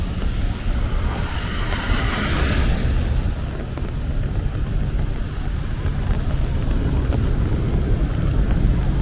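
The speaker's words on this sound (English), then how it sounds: "And there goes some thunder." Thunder rolls as a deep, continuous low rumble during rain on 4th Avenue in Brooklyn, mixed with steady rain hiss and wind buffeting, with a brief brighter rush early on.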